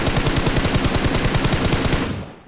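Automatic weapons fire in a video game shooter: a loud, close, rapid unbroken stream of shots that stops abruptly near the end.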